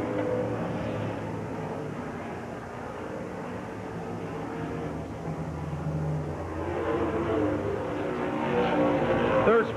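Race cars circle a speedway oval during the 40th lap of a 100-lap International Freedom Festival race at Checker Flag Speedway, Windsor, Ontario, 1986, a continuous engine roar rising and falling as cars pass, with commentary talking over it.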